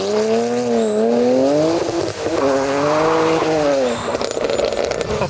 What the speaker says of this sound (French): on a un mode launch control sur une boîte manuelle